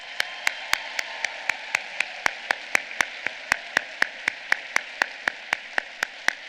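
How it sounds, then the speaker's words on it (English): Slow, evenly spaced claps at a social work summer commencement ceremony, about two dozen crisp claps that sound like a single pair of hands keeping a steady beat, moderately faint with no crowd noise or talk. "please join me in a round of applause for today's organizers"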